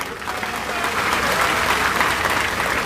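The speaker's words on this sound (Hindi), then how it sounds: "उनके नाम की जरा एक ताली लगाएं।" Audience at a constitution awareness mass conference in India breaks into loud, sustained applause, a dense wash of clapping hands that holds steady for the whole few seconds with no voices on top.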